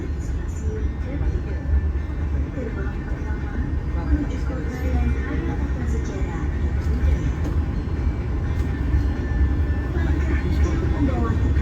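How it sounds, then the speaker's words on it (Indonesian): A commuter train hauled by a vintage locomotive rumbles past steadily near Kertosono station, Indonesia, with a low, continuous rolling roar and faint rattling, close by and loud throughout. "bertemu dengan kereta komuter Indo pakai lokomotif vintage"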